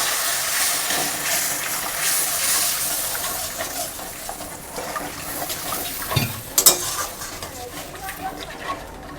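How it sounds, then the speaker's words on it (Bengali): Water goes into a pan of fried spice masala for a Bengali fish curry, giving a steady broadband hiss and splash with a few louder bursts near the end. "এবার আমি পরিমাণ মতো জল দিয়ে দেব।"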